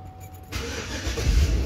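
A GMC car engine starting nearby: a brief quiet moment, then the starter cranks and the engine catches, settling into a steady, rising idle rumble.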